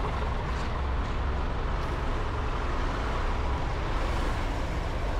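Steady road traffic rumble around a Honda ADV160 motorcycle riding through congested streets, a continuous broad engine and tyre roar that stays fairly even throughout, with no talk.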